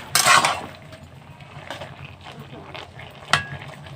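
Spinach stirred with turmeric in a cooking pan for a vegetarian Bengali palong shak ghonto: a close burst of scraping and stirring at the start, softer shuffling after, and one sharp metallic clink near the end.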